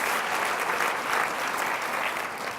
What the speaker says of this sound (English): That's where I thought you all might applaud.